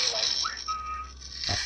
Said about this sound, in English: this next one is a definite whistle